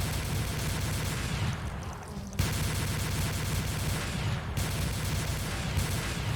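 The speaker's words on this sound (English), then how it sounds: "Recommence firing." Rapid, sustained gunfire in a modded Doom video game, loud and dense, with a brief lull around two seconds in and another short dip later before the shooting resumes.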